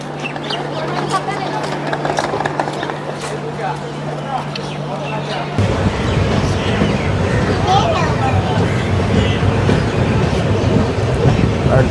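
Having just left Chhatna station for Bankura Junction, the Rupasi Bangla Express rumbles on, quieter at first with a low steady drone, then a sudden jump into louder rushing wheel clatter, with voices talking in the background.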